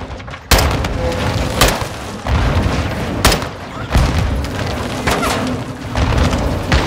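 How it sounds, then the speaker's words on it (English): Repeated explosive booms from grenades in the video game Call of Duty: Modern Warfare II, several sharp loud blasts spaced about a second apart over a dense roar of battle noise and gunfire. "They're launching grenades!"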